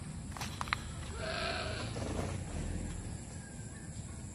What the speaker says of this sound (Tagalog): Ayan yung mga kambing.